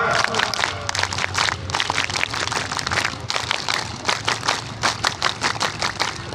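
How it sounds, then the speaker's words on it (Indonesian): A crowd at a Scout (Pramuka) gathering during a fire brigade outreach event claps together in dense, loud bursts that settle into a rhythmic group pattern near the end, with voices mixed in. "3 kali tepuk Pramuka."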